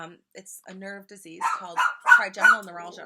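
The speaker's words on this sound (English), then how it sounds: "Sorry about my dog. He's crazy." A pet dog barks and yips in short bursts indoors, fairly close, overlapping a person talking steadily.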